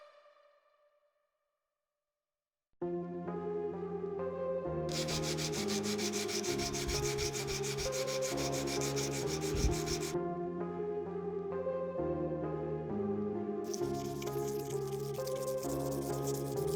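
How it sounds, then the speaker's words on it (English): Rhythmic hand sanding of a forged Damascus steel key organiser, working through grits from 180 to 2000, a steady scratchy rubbing with short pauses between stroke sets, close and fairly quiet after a brief silent start. "I also softened the corners and sanded, starting at 180 grit and working my way up to 2000 grit."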